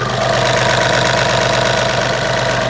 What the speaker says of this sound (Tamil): இப்போ இன்ஜினோட நாய்ஸ் கேட்கலாம்.